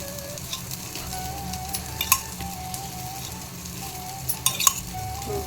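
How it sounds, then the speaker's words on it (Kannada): Tempering for a ridge gourd chutney sizzles in a pan with mustard seeds, cumin, urad dal and chana dal, a steady close crackle with a few sharp pops and scraping stirs, no talking. "ಅಷ್ಟರಲ್ಲಿ ಒಗ್ಗರಣೆ ಮಾಡ್ಕೊಳ್ಳೋಣ ಚಟ್ನಿಗೆ"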